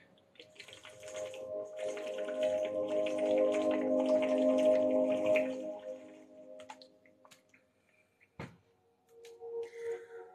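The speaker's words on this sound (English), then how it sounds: "You're gonna get some water bottle ASMR." Plastic water bottle handled for ASMR, with crinkling and sloshing water filling the first half and then a few isolated taps and crackles near the end, close and fairly quiet.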